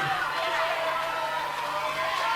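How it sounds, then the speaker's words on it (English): Sustained audience applause with some cheering at an entertainment show at a Haven holiday park in Primrose Valley, 1996. It forms a dense, steady wash of clapping that fills the whole stretch at an even loudness. "Give that lady a round of applause."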